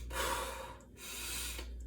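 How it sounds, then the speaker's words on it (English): Diaphragmatic belly breathing demonstrated close up: a long audible breath drawn in, a brief pause, then a second long breath, soft and airy with no talking. "What you want to start to do is develop breathing through your diaphragm"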